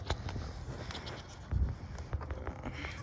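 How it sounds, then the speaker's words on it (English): Goats bleat on a large goat farm, among a busy outdoor herd that also includes a donkey and horses. The short, scattered calls rise over a steady, noisy background at a moderate distance. "And there's so many goats."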